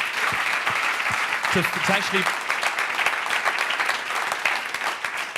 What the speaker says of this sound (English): I think that warrants an applause.